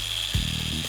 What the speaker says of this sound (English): So I'm using a variable speed grinder.